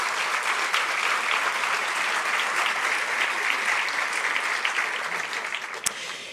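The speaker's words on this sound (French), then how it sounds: "On peut les applaudir" A hall audience at a New Year's greetings ceremony applauds the floral decoration team, dense continuous clapping from many hands holding steady before thinning out near the end with a single sharp knock.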